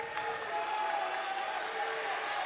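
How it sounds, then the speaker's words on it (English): A crowd at a high school basketball game applauds after two players collide and get back up, a steady moderate wash of clapping that stays fairly distant throughout. "a round of applause from the crowd."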